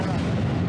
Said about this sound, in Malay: Ini adalah meriam anti pesawat Olinkan 35mm yang pakai oleh musuh